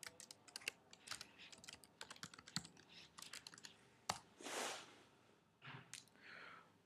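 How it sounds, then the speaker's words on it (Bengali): Fingers tap out facebook.com on a computer keyboard in a browser address bar, quick close clicks in uneven bursts, followed by a few soft rustles and a final keystroke. "এবার অ্যাড্রেস বারের মধ্যে আমি facebook.com লিখে ফেসবুকের ওয়েবসাইটটি ওপেন করব।"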